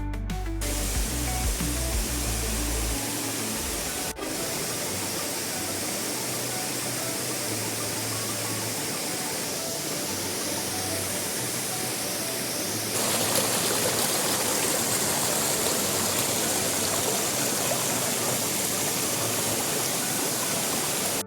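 Waterfall and river stream at Coban Ngepung on a mountain hike descent, a constant, dense rushing roar of falling water with no pauses, steady and close throughout.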